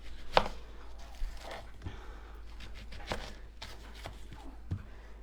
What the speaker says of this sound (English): And then we need to chop up an onion.